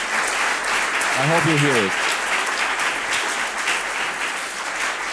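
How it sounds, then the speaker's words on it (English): Steady broadband applause from an audience at a climate transition lecture fills the clip, with a brief voice speaking over it partway through. "a big applause from the audience here."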